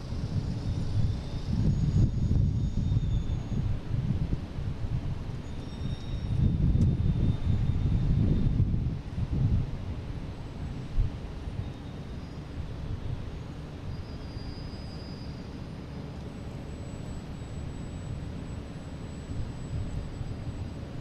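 Distant roar of an American Airlines Embraer E175 regional jet at Boston Logan airport, a broad low rumble that swells and fades with outdoor wind noise and a faint tonal whine, no voices.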